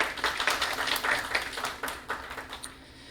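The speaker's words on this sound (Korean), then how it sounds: "박수 부탁드립니다." A forum audience claps for a speaker at a defence policy forum, a short round of fairly close, uneven hand claps that eases off after a few seconds.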